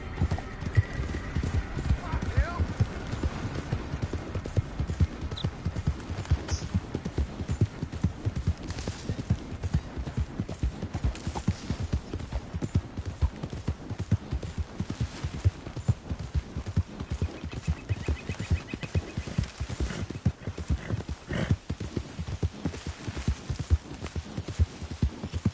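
Horse hooves clip-clop in a steady, continuous gallop across a Red Dead Redemption 2 game world, with occasional whinnies. The hoofbeats carry through nearly the whole stretch, with a voice talking over them at times.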